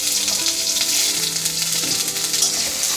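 Ginger paste fries with spices in a hot wok for a cauliflower curry, giving a steady close sizzle with light stirring and no voices.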